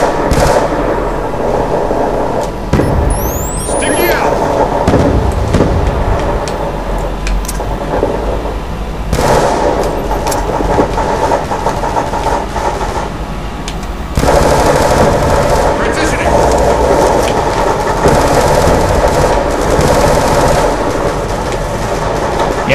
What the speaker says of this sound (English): Yes, listen to them gunshots.